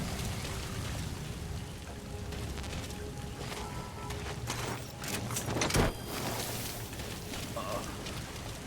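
Steady rainfall in Metal Gear Solid V, set in Central Africa, gives a constant dense hiss, with faint clicks and one brief sharper sound partway through.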